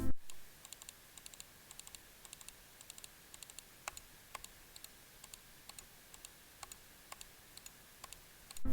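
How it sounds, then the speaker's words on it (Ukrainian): Crisp, short clicks from a HATOR gaming mouse's buttons repeat at a steady, regular pace, sharp and close, with a faint background hiss and no talking. "Клік чіткий, натискання коротке."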